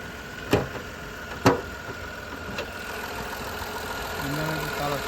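A Datsun redi-GO car engine idles in a steady, even hum, broken by two sharp clicks near the start and a softer one a moment later.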